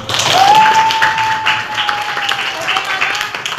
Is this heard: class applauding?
yes